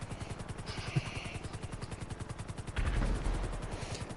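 A helicopter in GTA 5 Online flies with a steady, rapid rotor chop throughout, joined by a louder, rougher burst near the end, with no talking.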